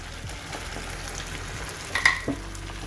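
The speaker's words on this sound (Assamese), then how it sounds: "এতিয়া এই মঞ্চুৰিয়ানখিনি যোনখিনি আমি ভাজি কৰিছিলোঁ এইখিনি দি দিম" Fried gobi manchurian tipped into bubbling sauce in a pan, a soft steady sizzle with a few brief clinks and scrapes near the end, close and without speech.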